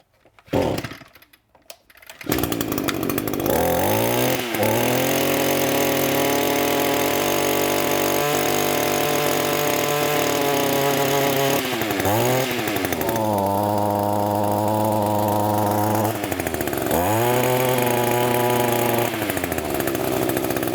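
A two-stroke weed eater engine, its carburetor adjusting screw turned in too far, starts after a few pulls and runs steadily, its pitch dipping and bogging down twice before recovering, loud and close.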